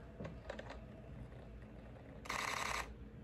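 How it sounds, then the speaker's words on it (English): A Canon R6 camera shutter fires in a rapid burst near 20 frames per second, a dense run of mechanical clicks lasting about half a second, after a few scattered handling clicks, fairly close and alone with no talk. "The shutter on the R6 is fast."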